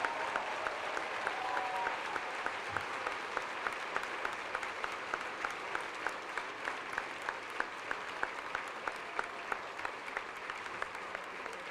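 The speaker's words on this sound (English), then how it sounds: "big round of applause here, everybody." Sustained round of applause from an audience at a New York City schools address, many hands clapping steadily with some sharper nearby claps standing out, no talk over it.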